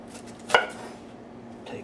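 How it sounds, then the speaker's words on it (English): A knife chops through a head of cabbage, one sharp crisp cut near the middle landing on a cutting board, with faint softer handling sounds around it. "And I think I'm going to cut these in half again."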